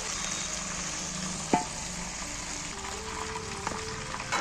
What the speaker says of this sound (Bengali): মাংসটা ভেজে নিয়েছি এবার আমি মাংসটাকে তেল থেকে তুলে নিচ্ছি